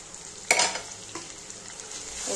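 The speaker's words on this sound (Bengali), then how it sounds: "ভালো করে কষিয়ে নেব।" Mutton being stir-fried in a pan with ginger-garlic paste, cumin paste and chilli and cumin powders for kosha, a spatula scraping once sharply then more softly over a thin continuous sizzle, close by.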